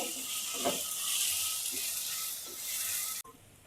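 Green masala paste stirred into onion and tomato frying in a pan for Karwar-style crab sukhe, a steady close sizzle with soft scraping strokes of stirring, ending in sudden quiet.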